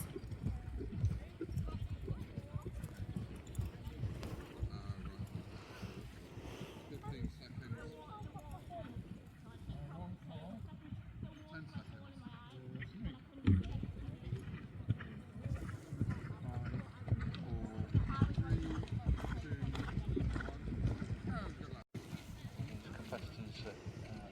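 Hooves thud in a steady clip-clop rhythm on soft ground while a commentator talks continuously over the top.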